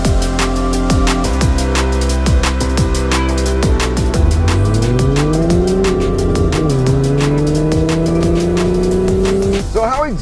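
A Volkswagen Beetle RSI with a 220-horsepower all-wheel-drive engine drives loud and close, its engine note rising as it accelerates, with tire squeal and faint voices underneath.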